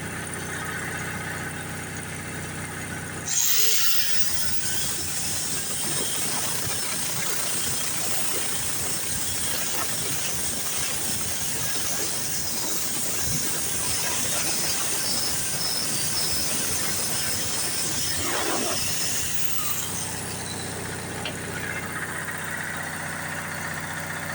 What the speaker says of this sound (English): It's a fan cooled motor, but that's steam.